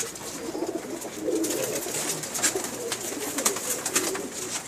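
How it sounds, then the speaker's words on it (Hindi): Soft cooing of Pakistani pigeons repeats at a moderate distance over a steady hiss of background noise, with no talking. "आउट क्लास का कबूतर है ये"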